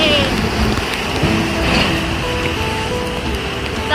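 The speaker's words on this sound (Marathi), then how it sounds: "चांगलं पावसाने झोडपलं" Heavy monsoon rain pours down steadily along a green roadside route near a waterfall, a dense, continuous hiss and wash with no breaks, loud and close throughout.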